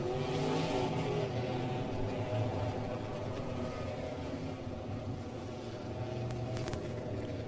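A 360 sprint car races at Ohsweken Speedway, a steady engine roar and whir, the motor fairly loud throughout with faint crowd and track ambience.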